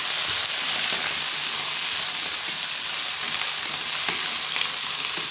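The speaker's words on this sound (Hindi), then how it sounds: "मेथी और आलू को डाल के मैंने 3 मिनट तक भून लिया है" Fenugreek leaves and potatoes fry in a pan with a steady, loud, continuous sizzle and faint stirring throughout, with no voices.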